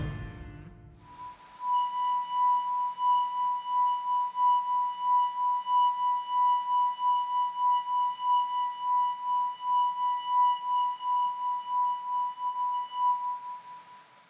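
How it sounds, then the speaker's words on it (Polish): Sustained pure tone rung from a water-filled wine glass, a single steady note held for about twelve seconds with faint overtones, close and clear after a brief low thump at the start. "aby lepiej słyszał wydobywane z kieliszków dźwięki"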